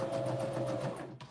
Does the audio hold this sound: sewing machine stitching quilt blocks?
yes